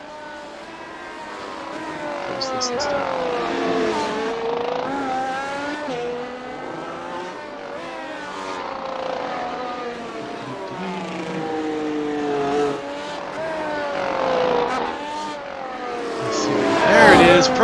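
Several race car engines in the iRacing pit lane, whining and sweeping up and down in pitch as cars pass one after another, fairly loud, with a voice speaking briefly.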